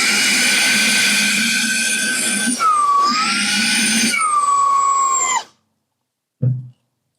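A homemade rechargeable mini hand vacuum runs at a loud, steady high-pitched whine for about five seconds. Its pitch shifts twice as a plastic bag is sucked against the nozzle. It then cuts off, followed by silence and a short dull thump.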